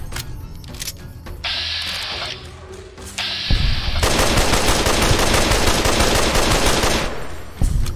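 Rapid automatic gunfire from a weapon in the game Fallout: New Vegas, a dense loud burst of shots running several seconds after shorter bursts, with no talking over it.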